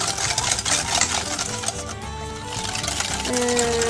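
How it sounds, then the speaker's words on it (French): Sugar and eggs being stirred together in a bowl for a chocolate fondant, a steady scraping and tapping of utensil against the bowl with clinks, going on under background noise and voices in a home kitchen. "Vous touillez bien."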